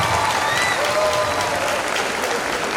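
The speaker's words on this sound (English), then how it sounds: "let's have another round of applause for the class of 2018" Sustained audience applause for a high school class of 2018 at its graduation ceremony, dense and even throughout, with faint voices and cheers mixed into the crowd noise.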